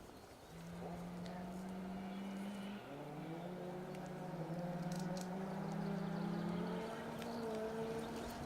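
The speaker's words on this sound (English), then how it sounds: "It's not the Saab that's through first. Anyway, it's the Mini Cooper of Terry Cree and Richard Shaw's." A Mini Cooper rally car on a forest stage of a Welsh rally championship round, its engine note rising through gears as it approaches and passes, steady and moderately distant, with faint birdsong and a commentator talking over it.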